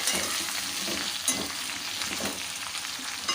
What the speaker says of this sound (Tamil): வெண்டைக்காய் வந்து வதங்கட்டும் அடுப்பை மிதமான சூட்லேயே வச்சுக்கலாம்